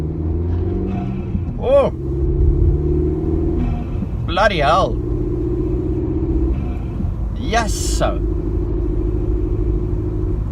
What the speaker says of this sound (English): I can hear this intake sucking. It's like a tornado that wants to suck a cow in.